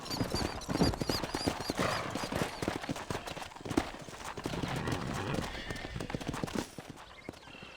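Horse hooves clip-clop steadily in Red Dead Redemption as a rider heads toward a stable, a dense close rhythm of strikes running through the clip with game sounds around it, easing off near the end.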